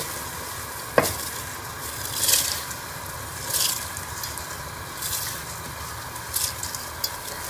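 Rice stirred into a pot of beef yakhni pulao, soft wet scraping and squishing with a few sharper spoon knocks over a steady low simmer, close and fairly quiet.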